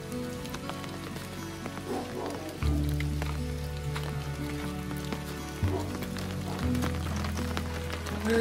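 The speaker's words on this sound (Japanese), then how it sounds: "今日は雨降りです。" Steady rain falls in a backyard onto newly replaced corrugated plastic roofing over a barbecue table and sink, a continuous patter with scattered drips and a low steady hum beneath, moderately loud and close, with no talking.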